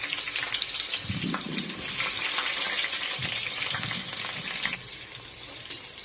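Onions and green chilies frying in hot oil in a pan for chicken curry, a steady bright sizzle with some low stirring scrapes, no voices.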